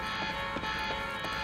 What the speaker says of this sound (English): Alarm's not gonna make my life any easier.